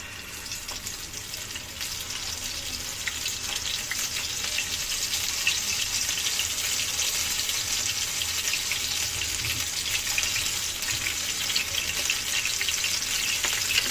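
Cauliflower chops frying in hot oil for iftar, a steady, even hiss and sizzle that holds for the whole stretch with no voices.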